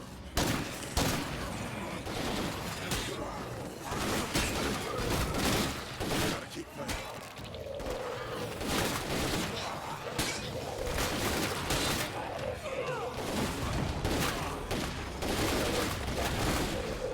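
Rapid gunfire crackles through a zombie fight in State of Decay 2, dense bursts of shots repeating across the whole stretch, loud and close, with game noise and a voice mixed in.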